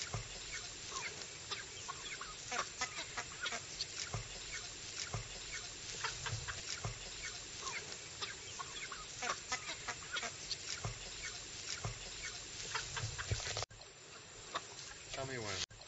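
Many eight-week-old chickens cluck and chatter continuously close by on a farm on Costa Rica's South Caribbean coast, a busy flock murmuring with scattered sharper calls, while a person talks over them.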